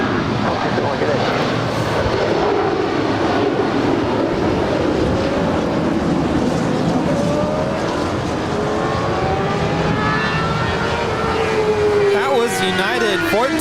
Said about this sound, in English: United 1431 departing to Honolulu. It's a 757-300.